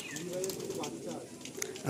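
Giribaz pigeons in a loft coo softly in short, repeated calls alongside brief chirps, close by, with a person speaking over them.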